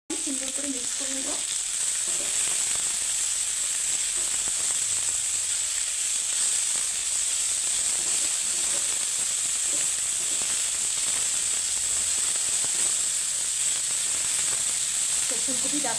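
Cauliflower stalks seasoned with salt and turmeric sizzle and hiss steadily in a frying pan, a loud continuous crackle with occasional stirring scrapes and no break.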